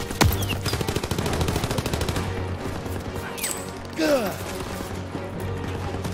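Rapid machine gun fire in a Call of Duty WW2 campaign battle, sustained close bursts hammering steadily across the clip, with whizzing projectiles and a mechanical clank midway.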